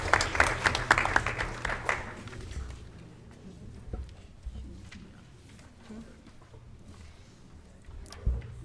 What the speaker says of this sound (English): And just another round of applause for all of our staff of the year we recognize this evening